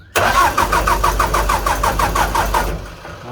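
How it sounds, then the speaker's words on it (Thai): An old four-cylinder truck engine cranks with a rapid chugging starter rhythm for a few seconds, loud and close, before settling; no voices. "เดี๋ยวจะลองสตาร์ทดูครับผม เดี๋ยวฟังเสียงเครื่องครับ"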